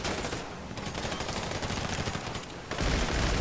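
Dense bursts of automatic gunfire from a Grand Theft Auto V shootout during a drug deal gone wrong, loud rapid volleys with two brief lulls, continuous and close throughout.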